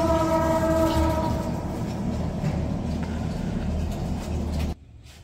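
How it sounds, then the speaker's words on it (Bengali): A train passes on nearby rails in a steady loud rumble with a sustained horn tone early on, then cuts off abruptly near the end. "ট্রেন যেতেছে, ট্রেনের শব্দ আওয়াজ হইতেছে।"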